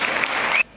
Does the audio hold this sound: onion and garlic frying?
no